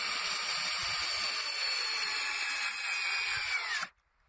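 A power drill drives a screw in with one steady, close, high-pitched whine lasting nearly four seconds, then it stops abruptly and falls to quiet.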